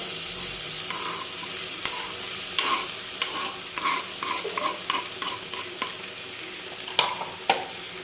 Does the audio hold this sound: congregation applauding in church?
no